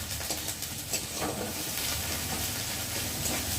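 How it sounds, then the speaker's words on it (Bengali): Onion and garlic frying in oil for a small-fish curry, a steady soft sizzle running continuously at moderate level throughout, with faint traffic noise from a nearby road behind it. "পেঁয়াজ আর রসুনটা ভাজা ভাজা হয়ে গেছে।"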